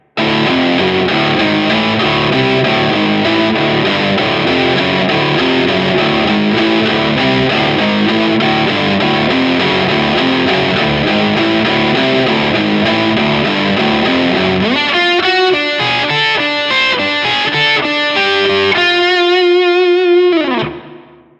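A distorted electric guitar chugs a dense, driving main riff at full volume, then shifts into a lead lick of picked notes that ends on a held, ringing note before cutting off.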